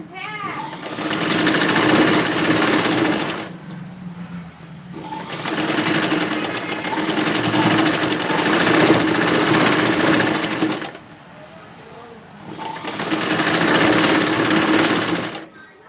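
Close, loud sewing machine stitching a dress in three long running bursts separated by pauses, with a steady whirring, rapid needle rhythm.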